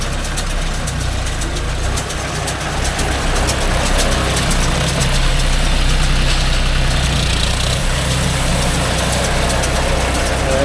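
A John Deere 5050D tractor engine pulls a baler rolling groundnut stalks in a field, giving a loud, steady, close diesel drone with no breaks.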